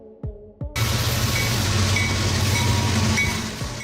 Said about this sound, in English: Trains that carry goods, including various types of cars designed to transport different kinds of cargo like coal, grain, automobiles, etc.